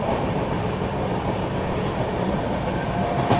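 The Swatantrata Senani Express runs at speed without stopping near Prayagraj, making a loud, steady rumbling roar with faint wheel clatter and no break in the sound throughout.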